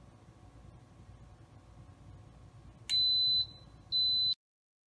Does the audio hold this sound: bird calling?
no